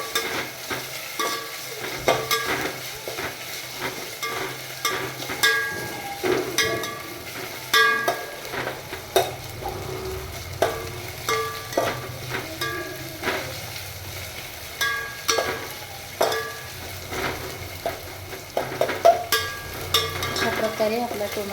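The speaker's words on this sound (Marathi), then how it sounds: "टोमॅटो तेलात चांगला परतून घ्यायचं." Tomato being stirred and fried in oil for masala rice, with steady sizzling under a run of regular scraping, clinking spoon strokes against the pan, close and moderately loud throughout.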